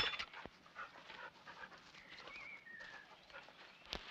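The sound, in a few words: dogs panting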